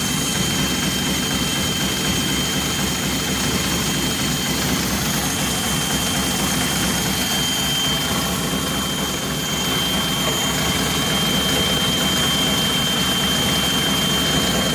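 Unimog 404 engine running steadily at idle after sitting unused, a loud continuous low rumble with a rough, even churn that holds without a break for the whole stretch, no voices over it.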